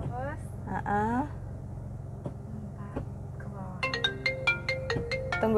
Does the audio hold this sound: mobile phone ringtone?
yes